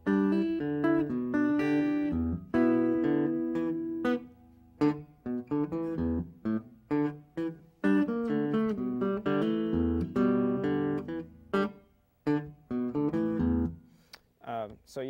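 Guitar playing the opening section of a song with melody and bass together on mostly open strings, a funky syncopated line of plucked notes and low bass hits, close and clear, stopping briefly between phrases.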